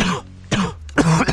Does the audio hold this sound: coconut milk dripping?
no